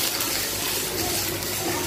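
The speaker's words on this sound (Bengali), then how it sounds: "ডালটা ঢেলে দিলাম" Thin lentil dal made with mustard paste is poured into a pot, a steady, close liquid splashing and gushing that holds at an even level throughout, with no speech.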